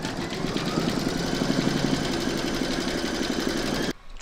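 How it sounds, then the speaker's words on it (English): An embroidery machine stitches a scalloped square placemat design in its hoop, a dense, steady, fast whirring chatter that runs loud and unbroken for nearly four seconds before cutting off abruptly. "Pop your hoop into your machine and stitch round number 4 to secure it."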